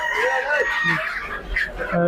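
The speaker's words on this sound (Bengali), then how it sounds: "এই দোকানে সবই দেশি মুরগি" Native chickens in a poultry shop at a city chicken market cluck and crow in a busy, continuous chorus, close and loud, with faint voices in the background.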